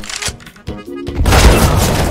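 Grenade blast in a Counter-Strike: Global Offensive match, a loud broadband boom erupting about halfway through and rumbling on to the end, preceded by a few sharp in-game thuds and clicks.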